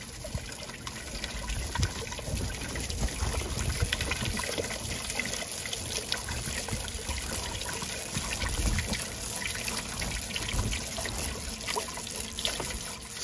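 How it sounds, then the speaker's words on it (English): A small backyard fountain driven by a 20W solar water pump trickles and splashes steadily, a continuous close-up patter of falling water with no pauses. "You can have your own self-contained fountain in your backyard using the same water that you're using."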